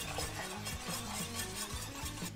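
Liquid poured in a thin stream into a saucepan while a whisk stirs constantly, a steady soft swishing and bubbling stir with light scraping, continuous and close, no voices.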